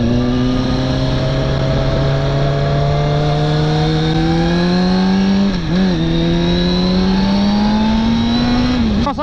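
A beautiful old car drives past close by, its engine note a loud steady drone that climbs gradually in pitch, with a brief dip in the middle and a rise near the end.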